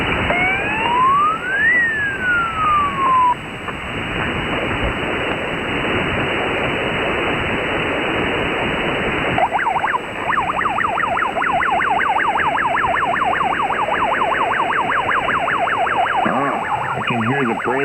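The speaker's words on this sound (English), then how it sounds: "That's the alarm going off." An alarm siren wails over a ham radio on the 75-meter band, rising and falling sweeps and rapid warbling tones cutting through loud hissing static.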